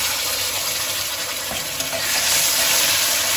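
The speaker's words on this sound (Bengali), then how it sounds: "এবার আমি আদা আর লঙ্কার পেস্টটা দিয়ে দিচ্ছি" Ginger and chili paste frying in a pan for a Bengali mixed vegetable dish, giving a steady, close, hissing sizzle that stays loud and even throughout.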